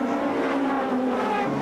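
Super touring cars race at Port Elizabeth in the 1996 South African championship, including BMWs, a Toyota, an Audi and a Vectra, with a continuous loud engine roar as they pass.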